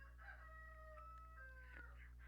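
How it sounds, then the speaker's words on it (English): Roosters crowing in the background, faint and distant, drawn-out calls overlapping one another above a steady low hum. "Ignore the roosters in the background."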